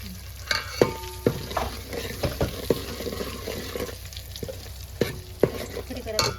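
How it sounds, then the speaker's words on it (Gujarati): Spice masala frying in a pan over a low gas flame, a close, steady sizzle broken by repeated spoon clinks and scraping strokes as it is stirred. "ધીમા ગેસે મસાલો પકાવવાનો છે"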